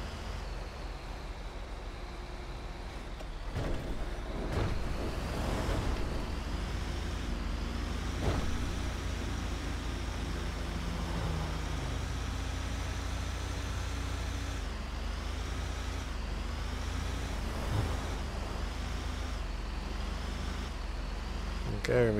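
A heavy wrecker tow truck rolls along a highway in GTA 5, its engine a steady low drone with road noise throughout, a few brief clunks and shifts rising over it, and a voice faintly under it.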